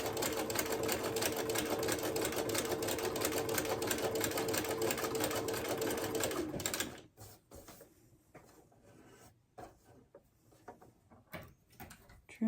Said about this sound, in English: Take the pin out, continue stitching.